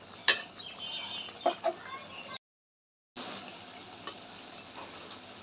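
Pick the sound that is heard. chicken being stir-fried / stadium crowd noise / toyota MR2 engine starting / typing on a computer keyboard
chicken being stir-fried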